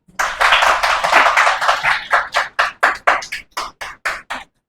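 A class claps together, first as a dense burst of applause, then thinning into a run of separate, evenly spaced claps that slow toward the end.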